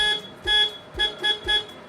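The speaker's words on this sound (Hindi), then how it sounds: "कुछ इस तरीके का हॉर्न आपको यहाँ पे देखने को नजर आएगा" Horn of a Maruti Suzuki Alto K10 LXi, five short bright toots in an uneven rhythm, close and loud with nothing else around.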